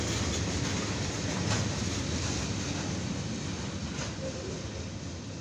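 A CSX mixed freight train rolls by, its cars producing a steady, moderately distant rumble with faint clickety-clack, continuous throughout without speech.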